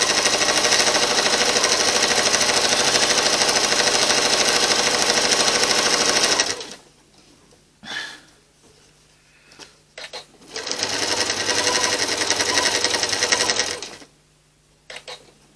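A sewing machine runs fast and loud while stitching the binding on a quilt, a dense buzzing stitch lasting several seconds, then pausing amid handling noises before a second shorter run of stitching.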